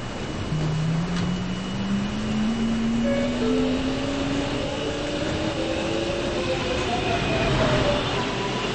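A subway train in the Roblox game Joe's Subway Trails at Depot Hills station, its motor whine rising steadily in pitch as it pulls away, with a constant mechanical hum underneath and no talk.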